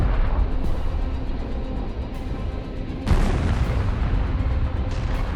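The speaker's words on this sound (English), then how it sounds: "HIMARS launches several rockets at once. The rockets reach the target. We see 3 precise arrivals." HIMARS rockets strike a target in a battlefield setting, heard as dense, heavy booming rumbles with a sharp new burst partway through, loud and continuous.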